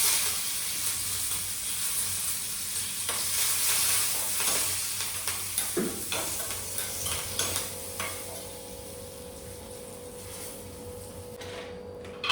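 Curry leaves sizzle in hot tempering oil with cumin and pepper powder for katte pongali, a soft frying hiss broken by spoon scrapes and stirring clatter, then a thin steady hum as the sizzle fades.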